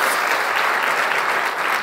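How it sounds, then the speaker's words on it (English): Conference audience applauding during a plenary session on climate and health, a dense, steady wash of many hands clapping at close range, sustained at even loudness throughout. "Can we once more have a big round of applause?"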